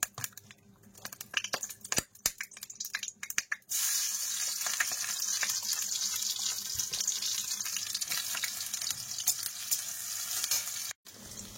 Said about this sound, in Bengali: আমি 2-4টি লঙ্কা দিয়ে দিলাম তেলের মধ্যে